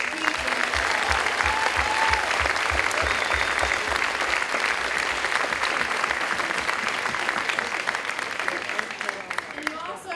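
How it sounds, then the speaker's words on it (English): Sustained audience applause for graduating students at a high school honors night, dense and even clapping from a large crowd that holds for about ten seconds, with a low rhythmic thumping underneath early on. "let's give these students a huge round of applause"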